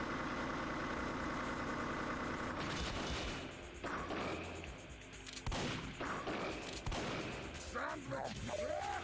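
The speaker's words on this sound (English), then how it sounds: "The AI is just as good as I am at getting that Gatling gun out." Heavy's Gatling gun in a Super Smash Bros mod spins and fires as a continuous loud rattling stream for a couple of seconds, then gives way to choppier bursts and impacts mixed with other game sounds.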